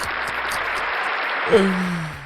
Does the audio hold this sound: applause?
yes